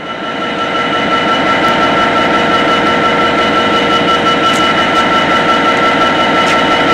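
A passenger train rolling toward Nottingham in the East Midlands, heard from inside a carriage: a steady, loud rumble and hum of wheels on rails with a constant tonal whine, continuous and unbroken throughout.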